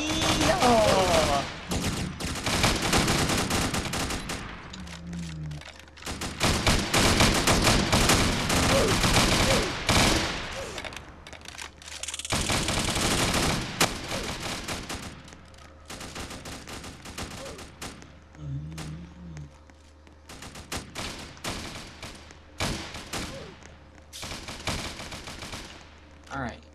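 Rapid bursts of gunfire from a Roblox prison riot game come in several long, dense volleys separated by short quiet gaps, loud and close, with occasional voices between bursts.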